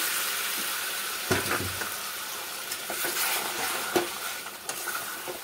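A pointed gourd and egg curry stirred in a pan, the spoon scraping and turning the thick mixture over a steady sizzling hiss, close and moderately loud, with a few sharper knocks and no talking.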